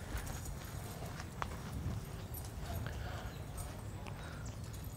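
A big colt walks on a hard surface at a pre-sale horse auction showing, its hooves clip-clopping in a steady gait amid a busy, noisy background.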